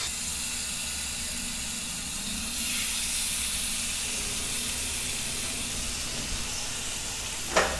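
Chicken pieces fry in oil and butter with a continuous hissing sizzle that swells a little partway through. A short sharp clink comes near the end.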